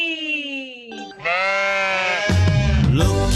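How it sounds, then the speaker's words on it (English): A sheep bleats in drawn-out wavering cries, one after another, loud and close, with a rougher, noisier bleat near the end. "It's a sheep."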